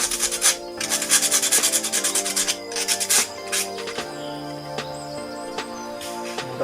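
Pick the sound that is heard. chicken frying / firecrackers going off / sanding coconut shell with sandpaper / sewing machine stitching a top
sanding coconut shell with sandpaper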